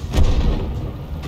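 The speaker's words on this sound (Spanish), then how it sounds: "Habéis visto que el disparo viene de atrás." A tank cannon fires in World of Tanks gameplay, one deep muffled boom that fades into a low rumble.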